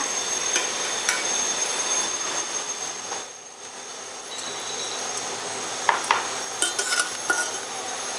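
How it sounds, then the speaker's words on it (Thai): Wontons frying in oil that has just come to a boil, a steady broadband sizzle running the whole time with a brief dip midway and a few sharp clinks and taps near the end. "น้ำมันนะคะก็เริ่มเดือดนะคะ แล้วก็ เอาเกี๊ยวลงไปทอดนะคะ"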